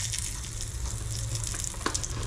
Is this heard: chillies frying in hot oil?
yes